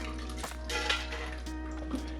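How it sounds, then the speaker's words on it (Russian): Quiet clinks and scrapes of a pan and utensil as cooked barbecue chicken recipe contents are moved from a frying pan into a blender, a few soft knocks over a low steady hum. "Теперь берем все, что у нас здесь было в сковородке, и перекладываем все это в блендер."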